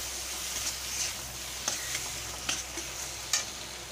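A spoon stirs ginger-garlic paste into a fish roe curry in a hot pan, soft sizzling underneath with a few sharp scraping clicks against the pan, close and without talk.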